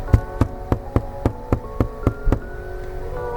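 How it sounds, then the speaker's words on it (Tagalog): Nine loud, evenly spaced knocks strike the door of a small hut at night, a sharp rhythmic pounding close by, followed by a brief faint tail. "Isa sa kanila ang kumatok ng malakas."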